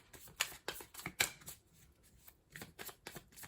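A tarot card deck is shuffled close by in repeated crisp, riffling bursts, with a short pause in the middle before more quick shuffles, and no talking over it.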